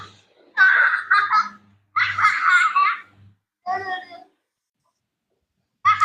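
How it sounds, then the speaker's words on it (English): Children play in the background, their high-pitched squeals, giggles and babbling voices coming in several lively bursts separated by pauses, fairly loud and close. "Can you hear the kids playing in the background?"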